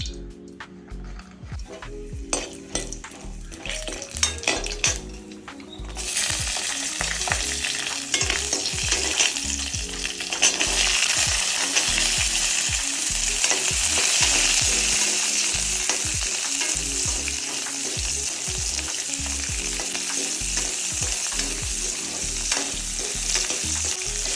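Ingredients frying in oil for eggplant kuzhambu, starting with clattering stirs and knocks, then a loud, steady sizzle under repeated scraping of a spatula, close and continuous.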